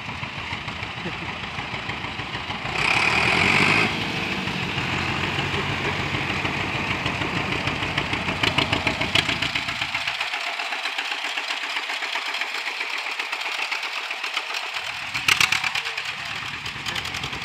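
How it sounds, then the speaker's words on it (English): Tractors rolling past in an outdoor parade, a steady mid-pitched engine drone with a louder burst early on, then the rumble thins and fades as the machines move by, with voices talking nearby. "here come all the tractors"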